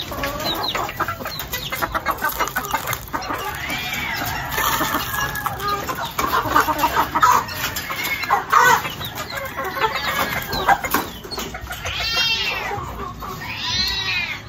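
A rooster calls repeatedly as chickens cluck in a noisy backyard, with cat-like meowing cries mixed in and some rustling throughout.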